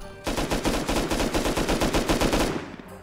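Rapid automatic gunfire in the game Rust, shooting down a Tesla coil: a dense, loud burst of evenly spaced shots lasting about two seconds before stopping abruptly, close and without talk.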